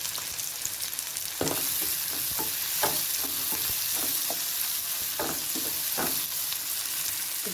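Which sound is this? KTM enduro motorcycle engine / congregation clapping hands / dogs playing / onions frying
onions frying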